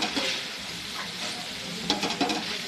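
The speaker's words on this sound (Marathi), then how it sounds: "ओलं खोबरं टाकणार आहे. मस्त खाली वर करून" Grated fresh coconut being stirred and turned in a frying pan over cooked vegetables, a steady close scraping sizzle with a few sharper clatters near the end, no voices.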